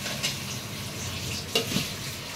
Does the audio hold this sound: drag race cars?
no